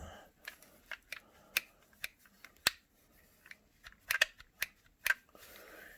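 A plastic attachment clicked onto a cordless 2-in-1 handheld vacuum, a series of sharp, close snaps and clicks at irregular intervals, some in quick pairs, quiet between them.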